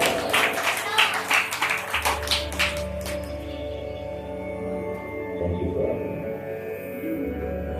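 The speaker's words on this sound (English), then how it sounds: "give him a big round of applause" Welcoming applause for a guest at a Hindu mandir satsang gathering, a burst of claps for the first few seconds that quickly fades beneath a low hum and murmuring voices.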